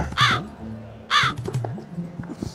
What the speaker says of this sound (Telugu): ఏమిరా కాకిగోల